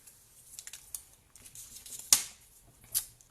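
Scissors cutting out a paper image for a Stampin' Up! card, giving soft, close snips and rustles of paper with a couple of sharper cuts, faint and intermittent, with no talking.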